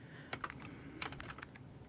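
Keyboard typing in the CozyTyper video game, picked up by a mic placed right in front of the keyboard: close, crisp keystroke clicks come in small irregular bursts, with a faint steady hiss beneath.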